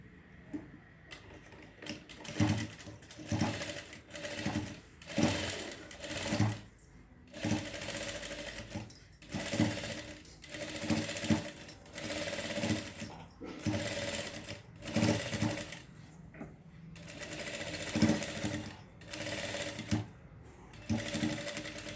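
A sewing machine stitches a seam on a designer blouse in repeated rapid bursts of needle chatter, separated by short pauses over about twenty seconds, close and clear.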